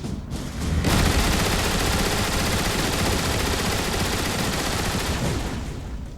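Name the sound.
ion displacer machine gun turret firing, Transformers: War for Cybertron video game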